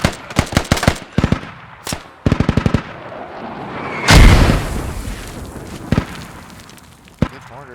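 Mortar fire in the tactical shooter Squad during a one-life campaign event: sharp gunfire bursts, then one heavy booming impact with a long rumbling tail, followed by scattered shots near and far.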